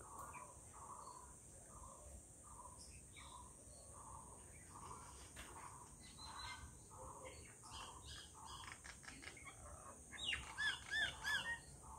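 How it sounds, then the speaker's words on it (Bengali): Birds call outdoors in a quiet setting, with faint scattered chirps and squawks and a brief cluster of louder calls near the end, while a soft insect drone runs underneath. "সব সময় পাখির ডাক।"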